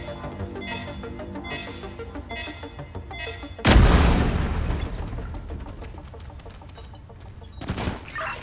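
A large explosion blasts through a bank vault's west wall in The Division 2, a sudden loud boom at mid-clip with a long rumbling decay, over ongoing game music and effects.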